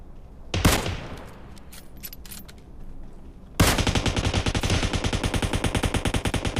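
Automatic gunfire from the game PUBG Mobile: a sharp opening blast, a pause filled with scattered shots, then a long rapid burst of evenly spaced rounds rattling loud and close until the end.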